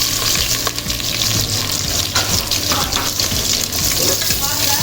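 Chopped onions frying in a pressure cooker pot while making tomato rice, a loud continuous sizzle with scraping and stirring sounds close up throughout.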